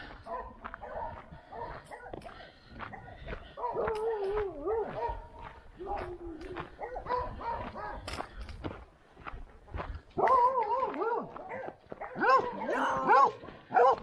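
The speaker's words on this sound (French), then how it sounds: "Vous êtes dans la montagne et puis vous avez des niches avec des chiens." Dogs in kennels in a mountain setting bark and whine intermittently at moderate distance, with bursts of yapping and footsteps on a trail, under occasional voices.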